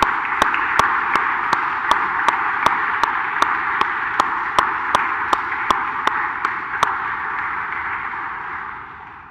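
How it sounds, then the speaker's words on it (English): Church congregation applause at a Sunday service: a dense, steady wash of many hands clapping with distinct sharp claps ringing out, fading toward the end. "I think we should just start with a round of applause for everything she's done."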